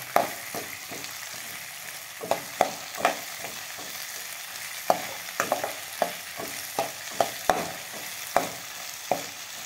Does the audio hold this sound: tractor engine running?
no